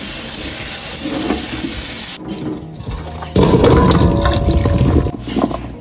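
Cold running water hisses from a tap, then stops briefly before a louder, fuller gush pours in as a container of marinating olives fills nearby.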